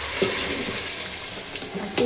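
Water pours into a cooking pot over rice being prepared, a steady close splashing rush with a couple of brief clinks, no talking.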